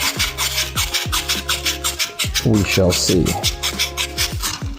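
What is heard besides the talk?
sanding with 180 grit sandpaper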